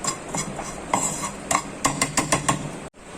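A spoon scraping and clinking against a bowl while ground red chilli and gram flour are mixed into kachori dough, irregular sharp taps that quicken into a rapid run of knocks before stopping.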